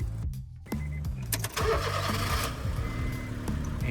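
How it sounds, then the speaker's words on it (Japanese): A car engine is started: a few clicks and a brief whirring crank give way to a catch and a steady, low idle that carries on at moderate volume with no one talking. "エンジンをかける"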